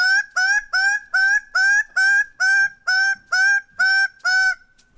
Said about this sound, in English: here one bird was determined to upstage him